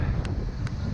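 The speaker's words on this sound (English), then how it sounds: "So we've got some good wind at the moment, blowing 20 to 25 knots." Strong 20 to 25 knot wind blowing on a sailboat crossing the bay from Auckland to Coromandel, a steady close roar of wind buffeting the microphone with faint rustling.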